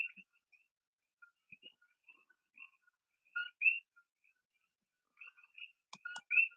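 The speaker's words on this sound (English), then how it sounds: "my Koki frogs are singing tonight. It's rained all day, so they're happy." Coqui frogs calling at night after a day of rain, giving short, sharp two-note chirps scattered in ones and pairs, near and clear against a quiet background, with no voices.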